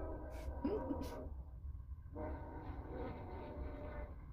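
A train passes at a distance with a faint, steady rolling rumble and a brief horn-like tone near the start, fairly quiet against room sound, with a person speaking.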